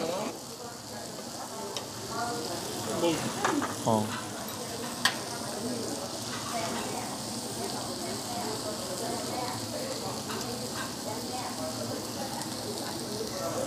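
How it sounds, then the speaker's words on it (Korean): Iberico black pork sizzles and fries steadily in oil throughout, a continuous crackling hiss with occasional stirring clinks, while people talk and eat nearby. "지금 다 튀기죠?"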